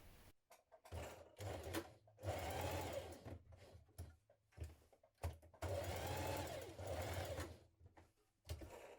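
A sewing machine stitches a dress sleeve corner in short runs, its rapid whirring chatter starting and stopping several times with brief pauses between bursts, close and fairly quiet, no one speaking.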